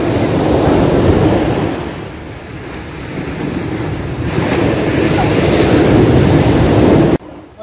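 Ocean waves crashing on a shore: loud, continuous broadband surf and wind noise that surges and eases, with faint voices underneath, cutting off abruptly at the end.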